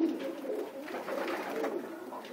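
Racing pigeons coo steadily inside a pigeon loft, with several overlapping soft, throaty calls close by.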